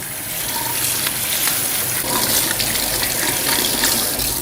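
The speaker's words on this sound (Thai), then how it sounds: "ปล่อยน้ำไหลผ่านเยอะๆเลยนะครับ" Tap water pours steadily and loudly with a constant splashing hiss while rinsing an Angel cold-press juicer, no voices over it.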